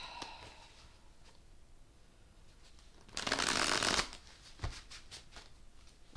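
A deck of tarot cards is shuffled once in a quick riffle of crisp flutter lasting about a second, framed by faint handling taps and a few soft snaps as the deck is cut, close and quiet.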